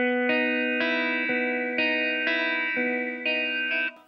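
An electric guitar with chorus and distortion effects plays a slow example in quarter notes, a series of sustained chords changing at an even, unhurried pace, clear and alone with no talking.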